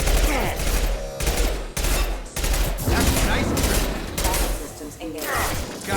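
Bursts of gunfire from a gun in Mass Effect 2, loud rapid volleys in several clusters separated by brief gaps, with impacts and effects mixed in.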